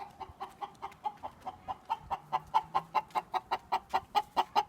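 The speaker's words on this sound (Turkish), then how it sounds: "Şimdi şu tavuklara bakalım." Chickens cluck in a steady, rhythmic series of short calls, fairly close, with faint background noise and no talking.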